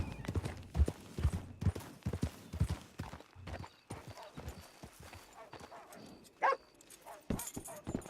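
Hooves clip-clop steadily on the ground as a horse moves in Red Dead Redemption 2 Online, with a brief whinny and dog barks mixed in and a voice talking at points.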